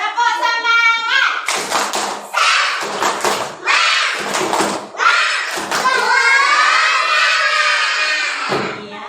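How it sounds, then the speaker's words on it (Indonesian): Young children in a classroom do a rhythmic spirit clap, with bursts of patterned clapping, taps and chanting voices, after an adult speaks briefly at the start. "Tepuk semangat."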